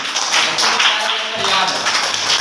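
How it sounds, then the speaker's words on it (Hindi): Students applaud a child during a lecture at a teachers' training programme, a dense, steady wash of many hands clapping together that holds at a fairly even level throughout. "हाँ शाबाश, इस बच्चे के लिए तालियां होनी चाहिए"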